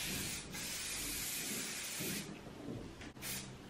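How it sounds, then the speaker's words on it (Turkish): Hair spray hisses from an aerosol can in a steady, close spray that runs almost without a break, with only brief dips between bursts. "Hafif bir sprey sıkacağım."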